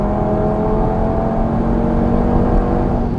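A 540 HP Audi TT RS tuned by 034 Motorsport pulls hard toward redline, its engine droning loud and steady from inside the cabin with a constant whirring roar.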